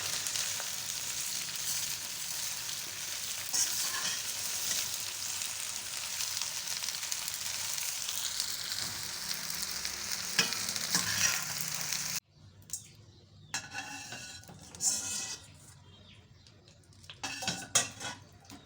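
Okra and onion frying in a pot, a steady close sizzle that cuts off suddenly, followed by scattered clinks and scraping of a utensil against the pot.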